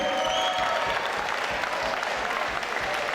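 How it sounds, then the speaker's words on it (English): An audience at the Contenders East Anglia fight night applauds and cheers the opening fighters, a continuous, loud wash of clapping with faint whistles and a held tone underneath. "a big round of applause for our opening fighters this evening"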